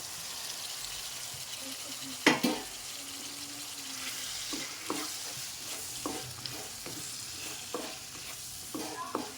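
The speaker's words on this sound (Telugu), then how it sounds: "ఇప్పుడు ఇక టమాటా ముక్కలు వేసుకుంటున్నాం" Chopped tomato and bottle gourd stir-fried in a pan, giving a faint, steady sizzle broken by a sharp clatter and a string of soft, regular scraping strokes from stirring.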